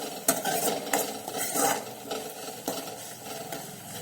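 Crushed garlic and onion sauté in a pan for a mixed vegetable dish, a soft sizzle broken by close, repeated scrapes and stirs of a spoon, with no talking.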